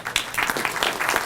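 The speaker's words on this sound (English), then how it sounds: "please give a round of applause for Dr." A community spring event audience applauds a speaker, a brief burst of moderate clapping with a few distinct hand claps cutting through.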